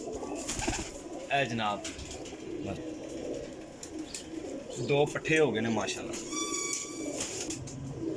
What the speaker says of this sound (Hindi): टैडी कबूतर